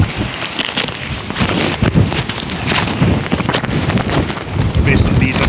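Strong storm wind buffets a two-person tent in 40 mph gusts during Storm Bert, a continuous loud roar of flapping fabric and rushing air with surging gusts throughout.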